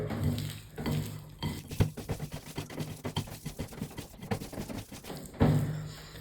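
Mashed potato for aloo shedo being mixed by hand in a bowl or pan: soft, squelchy kneading and pressing with occasional light clinks and scrapes against the dish, steady and close throughout.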